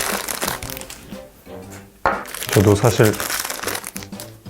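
Thin plastic vinyl film crinkles loudly and close as it is peeled off a GoPro Hero 9 camera, in dense bursts of rustling under steady talking.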